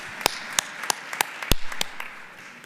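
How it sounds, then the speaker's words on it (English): At a fraud awareness event, scattered clapping rises for the speakers, with a few sharp, distinct claps in an irregular rhythm rather than a full crowd ovation. "Another big round of applause, ladies and gentlemen, for our speakers."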